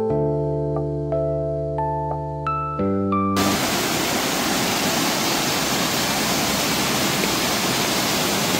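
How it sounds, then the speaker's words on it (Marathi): Waterfall on the Ganpati Gadad caves trek near Murbad in Thane district: after a few seconds of sustained tones, a dense, steady roar of falling water swells in close and loud, filling the rest of the clip with no talk. "तो हा आहे सेकंड वॉटरफॉल."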